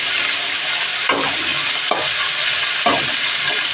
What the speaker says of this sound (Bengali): এই দেখো, টমেটো, পেঁয়াজ সব কিছু ভাজা ভাজা হয়ে গেছে